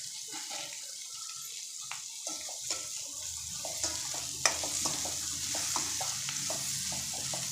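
Ridge gourd pieces tossed into a hot pan and stirred, a continuous sizzle punctuated by repeated scraping and clinking strokes of the spoon, close and fairly loud.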